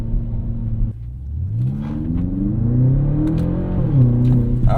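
A BMW X5 M accelerates hard in a quick pull, its engine and exhaust rising steadily in pitch through the revs with a brief dip at a gear shift before climbing again, loud and close throughout.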